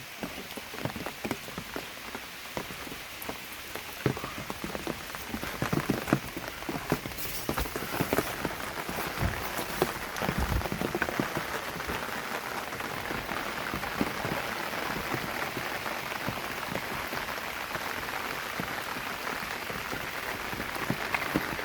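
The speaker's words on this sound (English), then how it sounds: "The rain" Steady rain patters down during a hike in Colca Canyon, Peru, a dense continuous hiss of drops on surfaces, fairly close and even throughout with no talk over it.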